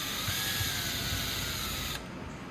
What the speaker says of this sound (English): You can just use a nut driver or a drill, whichever you have.